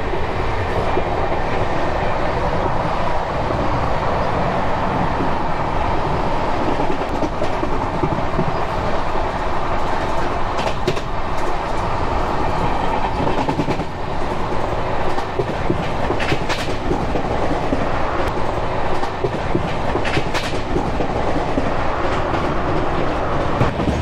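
The Maharashtra Sampark Kranti Express runs at speed on rails, a steady loud roar with rattling clickety-clack from the carriage, heard from inside the train without pause for the whole stretch.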